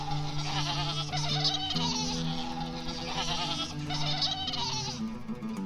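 Several goats bleating close by, wavering nasal calls that overlap and repeat in quick bursts, loud and steady throughout with no talking.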